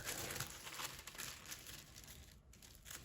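Sheets of thin tissue paper for papel picado flipped over and folded in half like a book, giving soft crinkling and rustling bursts close by, with no voices.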